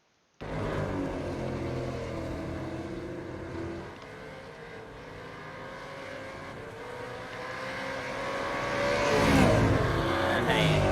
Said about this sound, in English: bring up some audio so we can actually hear the cars